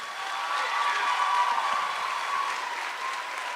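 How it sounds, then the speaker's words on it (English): Steady applause from a high school audience at a guest speaker event, a dense even wash of clapping holding at moderate level throughout with no speech. "It's the only way I can get people to clap for me."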